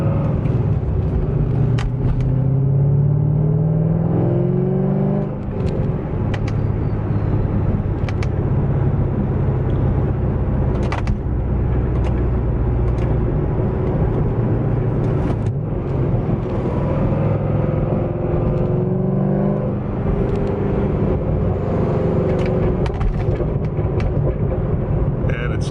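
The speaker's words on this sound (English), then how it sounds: "I noticed right away that the exhaust inside is a lot more aggressive, but it's not loud like I thought it was going to be." Inside a C6 Corvette fitted with TSP longtubes and an X-pipe, a steady, deep exhaust rumble and road drone fill the cabin throughout, with a few brief sharp ticks over the top.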